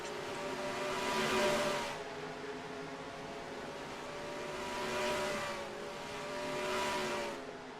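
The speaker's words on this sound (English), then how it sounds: "it's Christopher MARNELL, Logan Williams, as other drivers power across the line." Simulated racing cars in a sim racing video game roar across the finish line of the California 300, their engines swelling and fading in several passing waves over a steady background drone.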